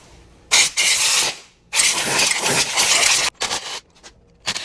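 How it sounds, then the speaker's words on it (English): Compressed air blasts dirt off a gear case on a Gen 3 Can-Am during a gear reduction install, coming in several loud, close hissing bursts of varying length separated by short pauses. "we're gonna blow this all out with compressed air"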